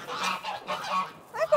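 Geese in a snowy coop give a few loud, nasal honks that rise toward the end, close by and heard without any voices.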